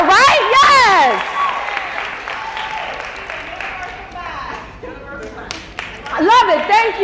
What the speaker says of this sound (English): Come on, we'll clap for her, right?